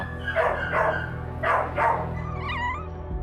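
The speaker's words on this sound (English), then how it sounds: "And then there are the really aggressive dogs." Aggressive dogs at an animal shelter bark in four loud, close barks grouped in two pairs, followed by a softer whining yelp.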